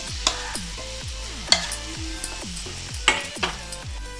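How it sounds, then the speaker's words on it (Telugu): Mint chutney being stirred in hot oil in a pan, sizzling steadily while a spoon scrapes and knocks against the pan in repeated strokes, close and clear. "జార్లో నుంచి పచ్చడిని ప్యాన్లో వేసుకుని ఒక 10 సెకండ్ల పాటు పచ్చడిని కలియబెట్టుకుని స్టవ్ ఆఫ్ చేసుకుందాం"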